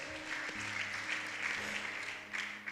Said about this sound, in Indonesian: Tepuk tangan buat Tuhan Yesus, haleluya